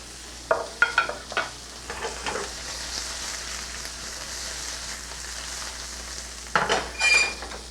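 Lightly salted shrimp frying in a pan for camarones a la diabla, with sizzling and crackling under intermittent stirring and pan clatter, a louder burst near the end, close up with no talk.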